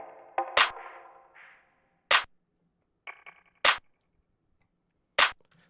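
Clap layered with a snare in an FL Studio emotional piano beat, four crisp, punchy hits landing at a steady pace between quiet piano notes.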